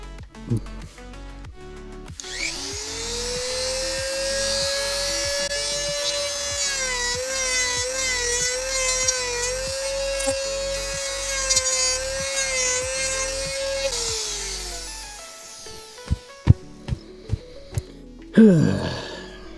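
A power tool fitted with a tiny cylindrical milling bit whines loudly and steadily for about twelve seconds. It spins down and stops, and a few sharp handling knocks and clatters follow.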